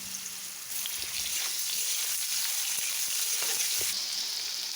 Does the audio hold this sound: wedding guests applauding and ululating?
no